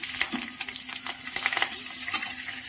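Nigella seeds and green chillies sizzle and crackle in leftover fish-frying oil, a close, busy frying hiss with scattered pops and stirring scrapes throughout.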